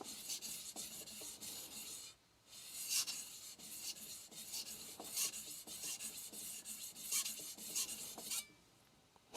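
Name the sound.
knife being sharpened on an ALTSTONE Fukami whetstone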